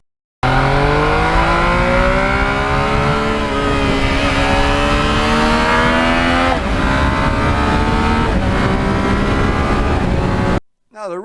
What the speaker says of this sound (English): It is just impossible to be bored with that MT09 quick shifter.